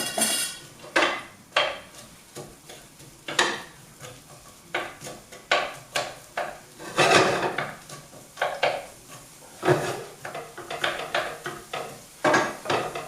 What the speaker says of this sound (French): on va commencer par faire revenir les oignons